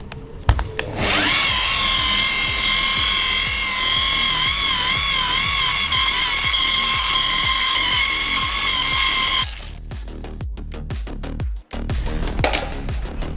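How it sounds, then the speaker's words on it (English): Dual-action polisher working car paint, a loud steady motor whine with a strong tonal hum and rhythmic oscillating pulses, running for about eight seconds before spinning down into handling noises. "I'm going to be polishing the DA right now"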